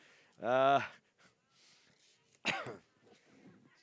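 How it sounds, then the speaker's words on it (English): A single harsh cough bursts out close to the mic, and after a pause a second short throaty cough or throat-clear follows, with quiet room noise between. "Apologies for the cough."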